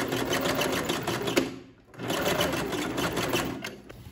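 A sewing machine stitching bias binding on a blouse runs in a steady rapid whir, pausing briefly midway before resuming at the same close, even pace.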